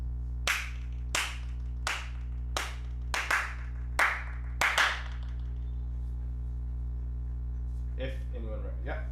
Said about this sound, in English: I'm going to clap a rhythm and I'm going to see if anyone can recognize it.